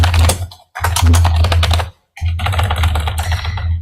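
Computer keyboard typing, close and loud, in two quick bursts of rapid clicking separated by a short pause.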